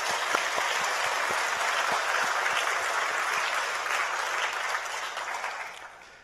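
A church congregation bursts into sustained, dense applause during a Korean worship service. The clapping stays loud and steady for several seconds, then tapers off near the end, with no voices over it.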